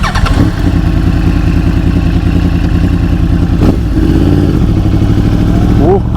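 A 2012 Yamaha R1 Big Bang sportbike engine runs loud and steady nearby with a deep crossplane rumble, holding an even idle with a brief blip partway through and a short rev near the end.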